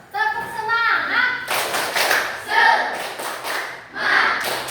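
Children in a classroom perform a rhythmic spirit clap, bursts of patterned hand claps trading with group chanting and a leading voice, close and lively.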